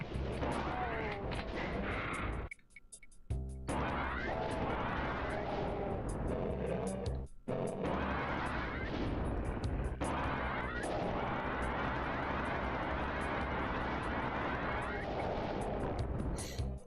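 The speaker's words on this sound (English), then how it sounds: "Kind of overkill using rockets on zombie soldiers" Rocket launcher blasts at zombie soldiers in DOOM II on Xbox, a continuous barrage of loud booming explosions and gunfire with a brief gap near the start, dense and close throughout.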